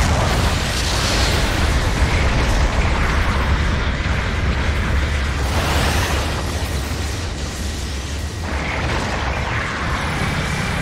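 Heavy explosions and booming blasts from an enemy mobile suit being destroyed in a Gundam video game, a continuous loud roar with repeated bursts around the middle and end.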